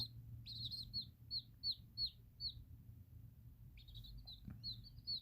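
Baby chicks of three different breeds, including a gray silkie, give a series of high, thin peeps in short repeated bursts close by over a low steady hum, with a pause midway before the calls resume.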